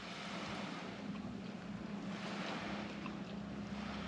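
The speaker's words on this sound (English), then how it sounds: "Waves hitting the beach." Waves hit the beach at Playa los Cocos in Baja, a steady broadband wash of surf blended with wind buffeting the microphone, constant and fairly loud throughout.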